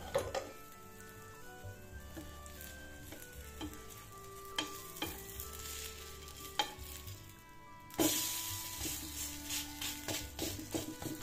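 A potato pancake frying on low gas in a pan after being flipped, soft sizzling under scattered clinks and scraping from a utensil, with a sharp clatter and a louder burst of sizzle near the end.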